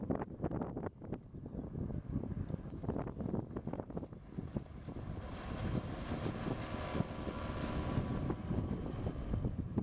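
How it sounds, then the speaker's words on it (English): A 13-foot fiberglass dory carrying three people runs across a bay at about 24 mph on a Yamaha 25 hp four-stroke outboard, its engine drone steady and loud beneath heavy buffeting wind on the microphone. "Another look at the boat zipping across the bay."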